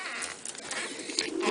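Pigeons coo in a mobile loft, a portable loft moved from place to place, giving soft, overlapping throaty burbles at close range amid a gentle rustling background.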